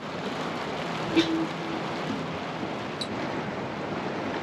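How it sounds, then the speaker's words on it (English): Heavy rain falls outside around a sailboat under restoration, a steady, dense hiss that fills the whole clip, broken only by a couple of faint knocks. "As you can hear, the rain is coming down."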